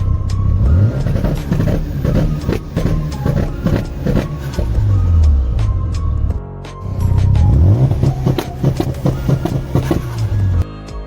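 A Mazda RX-7 FD3S fitted with a Power FC rev limiter is revved hard again and again, loud and close, each rev climbing and falling back, with one short dip in the middle and no talking.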